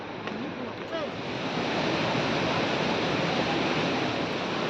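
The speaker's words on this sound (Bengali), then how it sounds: "জলের পরিমাণ এতই আছে যে উপর থেকেই জলের আওয়াজ শোনা যাচ্ছে।" Water rushes at Bamni Falls, a steady broadband roar heard from above the waterfall, loud and continuous and swelling slightly after the first second and a half.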